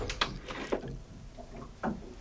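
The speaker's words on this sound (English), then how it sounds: "very large hanging and deep hanging drawer" A deep hanging drawer in the master cabin of a 2012 Ferretti 700 yacht slides and knocks, giving a few sharp wooden clunks and a sliding rumble, close and fairly loud.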